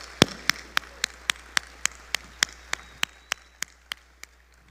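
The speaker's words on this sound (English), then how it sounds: "Another round of applause for Aya" Evenly spaced sharp claps ring out in a steady rhythm, about fifteen in a row, from the crowd at the main-stage opening ceremony of the Devcon VI conference in Bogotá, with a faint hum beneath.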